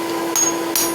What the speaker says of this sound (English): and hammer it over